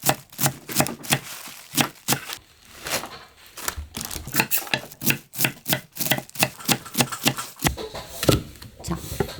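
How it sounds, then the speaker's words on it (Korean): Knife chopping mustard greens on a board into short 2 cm pieces during kimchi prep, a steady run of sharp, close cuts at a brisk rhythm. "갓은 이렇게 대가리를 자르고요"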